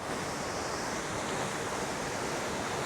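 A waterfall in Northern Ireland near a reservoir outflow tunnel gives a loud, steady, broadband rush of falling water, constant throughout and with no voices.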